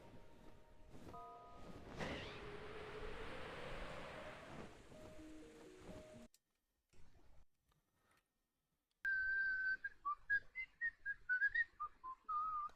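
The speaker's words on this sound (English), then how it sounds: "What was I just whistling?" A person whistles a short, wavering tune of clear notes. It follows a stretch of wind-like or wave-like rushing noise and a pause, and the whistling comes through alone and fairly close.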